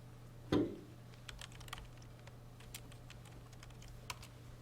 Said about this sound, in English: you can type print Ovid now